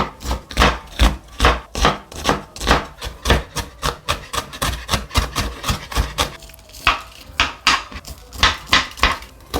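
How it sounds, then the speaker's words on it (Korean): Rapid, steady knife chopping of cheongyang chili peppers on a cutting board, crisp close thuds repeating quickly with a brief change in pace partway through. "청양고추는 홍고추보다는 조금 잘게 썰어 주셔야 돼요"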